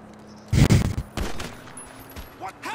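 A single sharp gunshot cracks loudly in GTA 5, followed by a short echoing tail, with people chatting around it.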